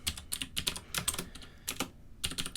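Rapid bursts of computer keyboard typing, keys clicking in quick uneven clusters with short pauses, close and alone, while a new folder name is entered.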